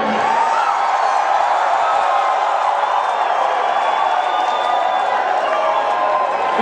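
A large Atlanta crowd at a rock concert roars and cheers continuously, a dense wash of voices and whoops filling the whole stretch, fairly loud and without a single clear speaker.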